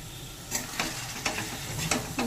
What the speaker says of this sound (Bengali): ভালো করে সেটা মিশিয়ে নেব